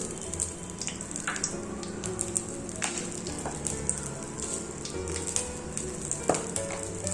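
Ground cloves and cinnamon sizzle in hot oil in a pan for Thanjavur-style kadappa, a steady close frying hiss with occasional spoon clinks, no talking over it.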